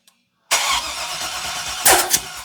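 An LS 5.3 engine fitted with a front-mount HEI distributor, its timing far out, catches abruptly after a moment of silence and settles into a loud, rough idle close by, with a brief surge partway through.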